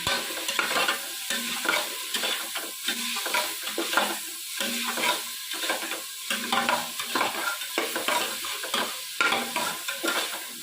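Onions with a little salt sizzle in a pan for masala tomato bath while a spoon stirs them in repeated scraping strokes, loud and close with no talking.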